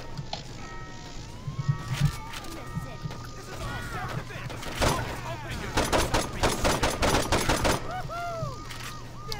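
Video game gunfire with shotguns being dual wielded: a few scattered blasts early, then a tight cluster of loud rapid shots, heard under ongoing game sounds and casual talk from players.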